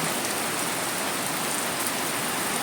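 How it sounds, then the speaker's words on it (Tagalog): Heavy rain in Hong Kong pours down in a dense, loud, continuous hiss with no pauses, alone and unbroken across the whole stretch. "umagang umaga na napakalakas ng ulan"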